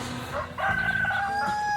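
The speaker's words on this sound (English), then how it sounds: "enjoyed the rooster again crowing" A backyard rooster crows near hens kept in a pen, one drawn-out cock-a-doodle-doo rising over quiet outdoor background.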